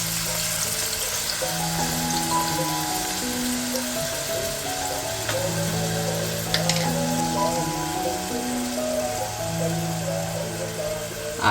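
Onions frying in hot oil for a soybean biryani gravy give a steady, close sizzle that runs unbroken throughout, with soft tonal sounds in the background.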